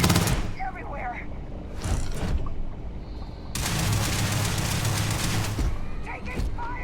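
Bursts of automatic gunfire in Starfield combat, crackling in dense volleys that stop and start across the stretch, with game voice chatter mixed in underneath.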